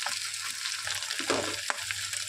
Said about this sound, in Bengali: কাঁকড়াটা আমার ভাজা হচ্ছে